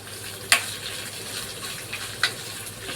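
Carrots fry in a pan with a steady close sizzle, broken by two sharp scrapes or clinks of a spatula stirring them, with no voices.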